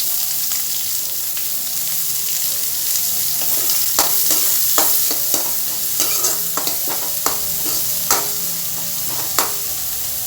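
Onions tossed into a hot pan and sautéed for cabbage thoran, a steady loud sizzle with a spatula scraping and stirring in repeated strokes over it, no talking.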